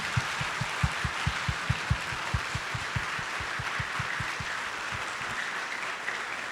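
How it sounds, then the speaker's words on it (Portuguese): A church congregation at a Wednesday service gives a strong, warm round of applause, a steady wash of many hands clapping over a regular low thumping beat that stops near the end. "com uma forte e calorosa salva de palmas"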